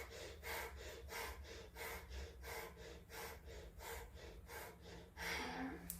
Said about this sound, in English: we're going to start breathing through our abdomen